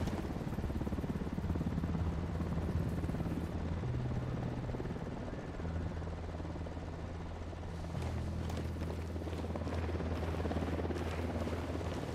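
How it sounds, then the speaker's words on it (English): Helicopter in Ghost Recon Wildlands, a video game, giving a steady loud rotor drone with low engine hum that holds throughout, nearby and continuous with no talk. "Helicopter, get down."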